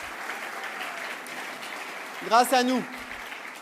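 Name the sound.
audience applauding activists at a political meeting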